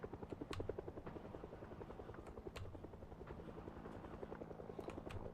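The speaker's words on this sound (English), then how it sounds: "Bloody chopper's still going." A helicopter flies overhead in the zombie survival game Project Zomboid, its rotor chop a steady rapid thumping at moderate distance, continuing alone throughout with faint scattered clicks.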